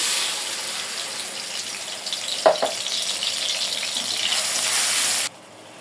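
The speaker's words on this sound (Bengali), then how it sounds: "তেল গরম হয়ে গেছে পেঁয়াজ দিয়ে দিই" Onions going into hot oil and frying, a constant close hiss that briefly crackles with a couple of sharp pops as they hit, then settles into an even sizzle before cutting off.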